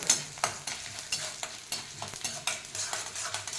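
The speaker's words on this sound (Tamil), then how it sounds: "வச்சு அப்படியே நல்லா கொஞ்சம் அப்படியே ஃப்ரை பண்ணிக்கிறோம்" Urad dal frying and being stirred in a hot pan, with a soft steady sizzle and repeated scraping strokes of a spoon at a regular pace, close and fairly quiet, no voices.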